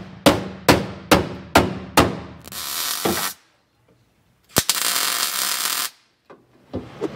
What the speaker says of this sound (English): I'm gonna do a little more hammering on this before I weld it in